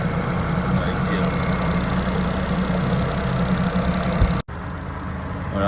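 A warm Renault 0.9 TCe three-cylinder petrol engine idling with a steady, even mechanical hum, close and moderately loud, cut by a brief dropout near the end.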